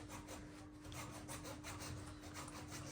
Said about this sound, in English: An hacksaw is a good saw to use, not a wood saw because it's plastic.